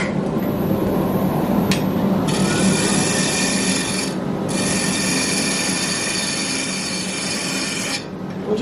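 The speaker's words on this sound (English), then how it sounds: "so I'll just put the dust extractor on" A dust extractor runs as a steady, loud broadband roar while a dry pear wood blank is turned on a lathe, with a high whine that briefly drops out around the middle and near the end; no one speaks.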